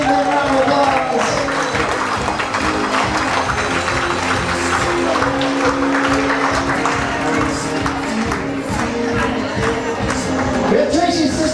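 Wedding guests clap steadily and energetically throughout a reception entrance, a dense, continuous applause filling the room, with crowd voices and cheers mixed in.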